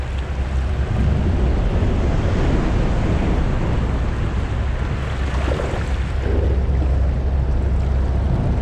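Steady, loud broadband rush of river rapids where someone is trout fishing, a continuous churning roar of water close to the microphone with no speech.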